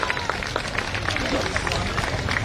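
Crowd applause at a political rally in Jamalpur, Ahmedabad, a dense, steady patter of many hands clapping throughout, with voices and murmur mixed in.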